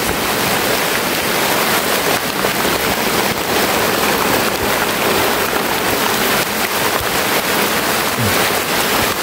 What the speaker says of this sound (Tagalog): Malakas yung ulan tol.